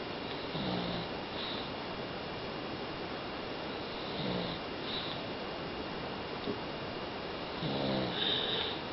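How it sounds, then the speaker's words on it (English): Someone sleeping snores in slow, regular rasping breaths, about three snores spaced a few seconds apart, close and fairly quiet over a faint background hum. "See how he's snoring?"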